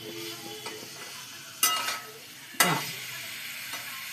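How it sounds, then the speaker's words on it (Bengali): Potatoes sautéing with masala in a pan give a soft sizzle, broken by two sharper scraping stirs of a utensil against the pan, close by. "দেখো আলুর সাথে আমার মশলাটা কষে গেছে।"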